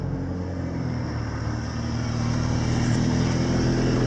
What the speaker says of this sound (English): Sorry for the exhaust sound.